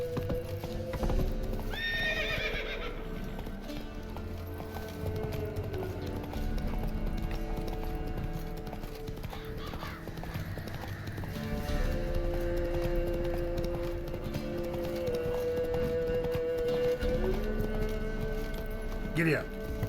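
In The Witcher 3, a horse's hooves clip-clop steadily at a run with loud neighs and whinnies over roughly twenty seconds, while a person talks over the game sounds.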